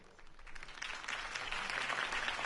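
A crowd applauds after a campaign speech, a dense, steady wash of clapping that swells and holds at moderate volume with no voices on top.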